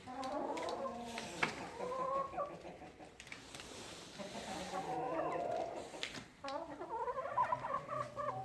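Chickens cluck and squawk in a busy flock while being fed anchovies, with overlapping calls rising and falling close by and no talk.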